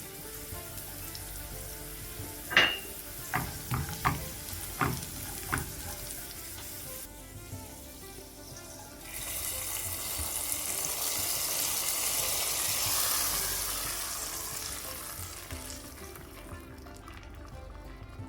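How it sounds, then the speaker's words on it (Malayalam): Raisins fry in ghee with a bright sizzle and several quick clinks of a spoon against the pan, followed by a louder rushing pour as the hot ghee is tipped into ada pradhaman payasam. "എല്ലാം ചേർത്തിട്ട് ഒന്ന് നന്നായി മൂപ്പിച്ചിട്ട് ഇത് നമുക്ക് നെയ്യോട് കൂടി തന്നെ പായസത്തിലേക്ക് ഒഴിച്ചു കൊടുക്കാം"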